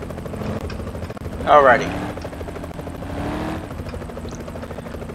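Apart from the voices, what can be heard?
helicopter flying overhead in Roblox game ER:LC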